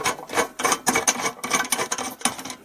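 An AMTOVL rivet nut plier screwing in and then tightening a threaded insert, a rapid series of close, scratchy ratcheting and rasping clicks in irregular bursts, with no speech.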